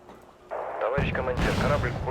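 Artillery fire in the Wargame: Red Dragon strategy game, heavy booming blasts that kick in partway through and carry on loudly under a voice talking.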